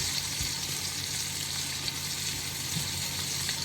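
Onions, peppers and garlic sizzle in olive oil, butter and brandy for a homemade cheese steak, a steady close frying hiss with faint crackles throughout and no talking.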